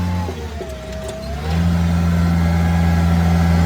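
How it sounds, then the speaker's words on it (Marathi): A car engine revs up and holds a steady, louder drone after a gear change while climbing an uphill road, the pitch settling into a sustained mid-range hum with no talk. "इथं मशीन आता गिअर चेंज करतो असं चढणार नाही"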